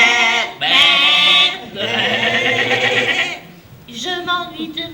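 A lamb bleats in a stable in three distinct, wavering, nasal calls with short gaps between them, close and fairly loud.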